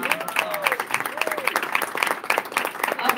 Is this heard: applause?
yes